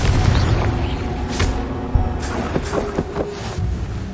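A Confringo blasting spell explodes in Hogwarts Legacy, with a deep boom and a sharp burst near the middle over a steady windy rumble.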